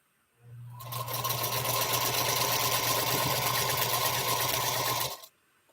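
A sewing machine stitching during quilting runs in one unbroken burst of about four seconds, a close, even, rapid mechanical whir that starts and stops abruptly, with no talk.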